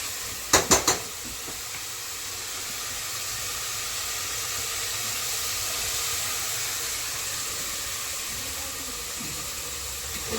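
Green chillies fry with onions in a pan for bagara rice, giving a steady, even sizzling hiss. A few quick metallic clinks come early on, and the frying then carries on alone.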